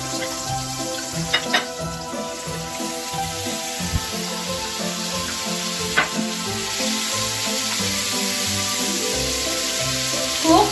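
Beef browning in a pan with onion and garlic, a steady close sizzle and fry with scraping stirring strokes and occasional utensil clicks throughout.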